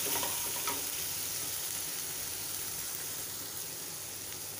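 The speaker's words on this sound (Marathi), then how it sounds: "साखर घालून घेऊया आणि हळद घालून घेऊया. छान परतून मिक्स करून घेऊया" Green chillies with sugar and turmeric sauté and sizzle steadily in a hot pan, a continuous close frying hiss with faint stirring scrapes and no voices.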